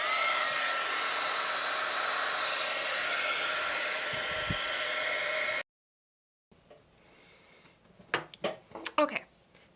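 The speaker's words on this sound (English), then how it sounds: "got my heat gun" A heat gun blows with a steady, loud, close whoosh while crafting a snow globe shaker card, then cuts off, followed by brief handling clatter and a few quiet words.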